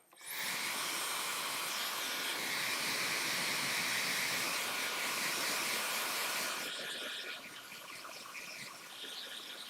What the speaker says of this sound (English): Now I'm going to go through and we're going to blow dry the area.